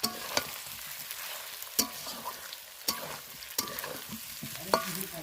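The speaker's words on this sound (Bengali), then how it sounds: "আলু দিয়েও ভালো করে আমি কষাবো এটা" Meat being sautéed with potatoes in a covered pan gives a steady oily sizzle, broken by several sharp clinks and scrapes of stirring spread across the clip, with no voices.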